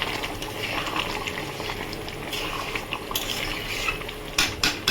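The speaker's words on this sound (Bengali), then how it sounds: "আর একটু গরম মশলা দিয়ে দিলাম। দিয়ে নেড়ে দেবো" Mutton rosa curry being stirred in a pot after garam masala goes in, a bubbling simmer under repeated metallic spoon scrapes and clinks against the pan, sharper clanks near the end.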